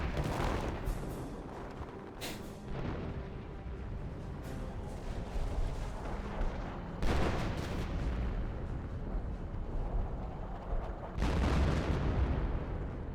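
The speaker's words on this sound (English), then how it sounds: "Artillery hitting the Hetzer." Artillery shells crash down in a Company of Heroes match, striking a Hetzer tank destroyer, with booming impacts landing over a steady rumble of battlefield noise.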